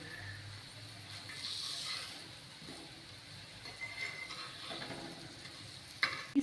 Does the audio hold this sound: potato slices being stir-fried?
yes